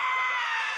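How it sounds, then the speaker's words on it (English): A stock scream effect from a film plays as one sustained, shrill cry lasting under a second, loud and alone with no talk over it. "Was that a stock scream?"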